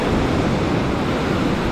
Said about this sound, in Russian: Такая небольшая волна, класс.